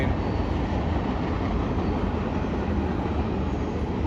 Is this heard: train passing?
yes